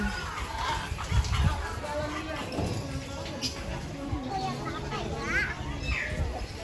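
Birds cluck and call amid a busy outdoor crowd at Lembang Park and Zoo, with people talking nearby and children's voices in the background.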